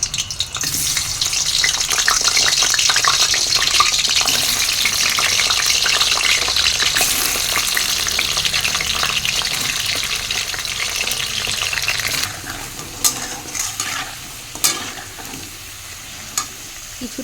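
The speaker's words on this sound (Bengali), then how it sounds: "এবার বাটিতে রেডি করে রাখা আলু ভেজে নেব।" Potatoes fry in hot oil in a wok with a loud, steady sizzle and stirring. Later it thins to quieter crackles with a few scraping knocks.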